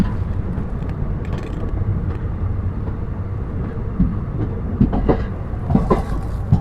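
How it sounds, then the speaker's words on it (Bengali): The Howrah-Mokama Express rolls into platform three at Durgapur station at night with a steady, close rumble and a clickety-clack of wheels that picks up toward the end, with no voices. "ঢুকছি দুর্গাপুর স্টেশনের তিন নম্বর প্ল্যাটফর্মে ট্রেন দিয়েছে"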